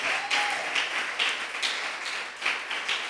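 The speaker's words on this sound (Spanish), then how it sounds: "denle un aplauso al Señor" A church congregation applauds during a women's service, rather quiet clapping at a middle distance in uneven pulsing waves that rise and fall several times with no voices over it.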